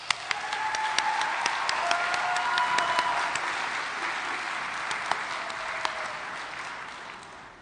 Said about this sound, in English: can we applaud the people who have helped make this moment in our life possible?